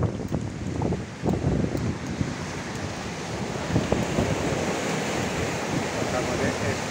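Heavy swell off Cape Espartel in the Strait of Gibraltar crashes against a sailing boat in strong weather, steady rushing water and wind noise throughout, close and fairly loud with occasional sharper surges.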